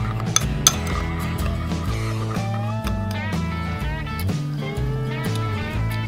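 Metal utensils clinking and scraping in a bowl while kebab meat is mixed with garlic powder outdoors, a quick run of bright clinks and taps over a low rustle of stirring.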